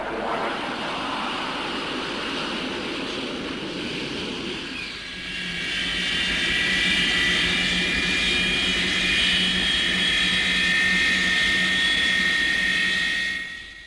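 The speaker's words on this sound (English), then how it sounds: "The swept-wing Super Sabre was the first jet fighter capable of exceeding the speed of sound without diving." A Super Sabre swept-wing supersonic jet fighter roars past in a steady, loud broadband rush that swells into a sustained high whine and holds strong before fading slightly at the end, with no talk.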